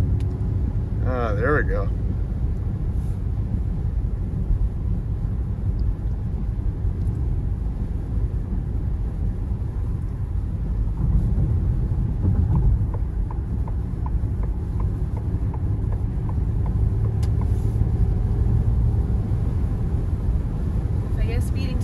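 A Ford Mustang Mach-E electric car accelerates hard on the road as a steady low rumble of road and cabin noise swells partway through. People talk over it.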